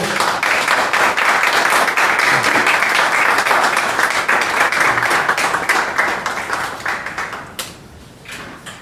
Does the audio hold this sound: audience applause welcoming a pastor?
yes